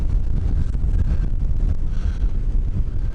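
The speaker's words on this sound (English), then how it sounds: "the wind is about 23 knots" Strong wind of about 23 knots buffets a sailboat off Kvitsoy, a steady, loud rumbling roar across the microphone that swells and eases slightly without pause.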